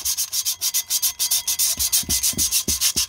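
A rear brake drum from a British Leyland Austin Princess being abraded to remove rust, giving a fast, steady back-and-forth rasping scrape in close, regular strokes with no voices.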